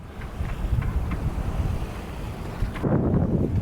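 Wind rushing past a sailboat off Southern California at about ten knots, steady broadband buffeting noise on the microphone, with water wash, growing louder and rougher toward the end.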